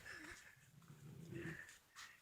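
A puppy whimpers and makes soft, whiny vocal sounds in a few short bursts, faint and close by, with brief pauses between them.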